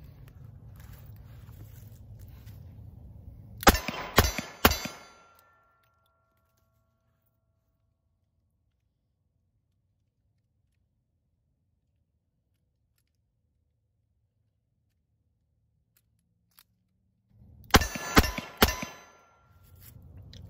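Metal clicks and clacks come from a revolver cylinder being loaded with five rounds, heard as two short clusters of sharp, close clinks separated by a long stretch of silence, with no talking.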